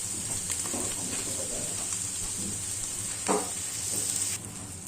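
Carrots sautéing in a pan for a home-style bourguignon, a soft continuous sizzle with occasional utensil scrapes and a high steady hiss.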